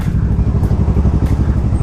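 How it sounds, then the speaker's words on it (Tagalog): Motorcycles moving through road traffic, close and loud, with a steady rumbling engine drone that stays throughout and carries no voices. "Traffic."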